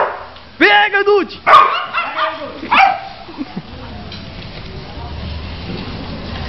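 A pit bull barks several times in sharp, loud bursts, with yips and whimpers in between, then the scene settles into quieter outdoor background noise.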